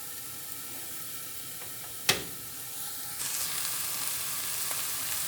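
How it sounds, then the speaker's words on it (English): Beans frying in a covered pan for a coconut curry give off a steady low sizzle and hiss, with a sharp clack of the lid midway and the sizzling growing slightly brighter afterward. "put the lid over it and fry them for some time"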